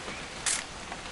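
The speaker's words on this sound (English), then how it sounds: "Just want to get a shot of you, Dawn, then we can take off" A camera shutter clicks once, a short bright snap midway through the soft ambient background of the game What Remains of Edith Finch.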